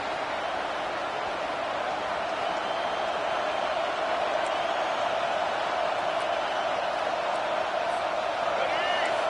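Football stadium crowd roaring steadily behind the defense during a red zone stand, a dense continuous wall of cheering and noise that holds loud throughout.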